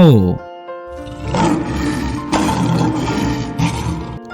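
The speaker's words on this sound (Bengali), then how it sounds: "সিংহ।" A brief voice at the start gives way to a lion's deep, rumbling roar that is loud and sustained for several seconds, with surging swells.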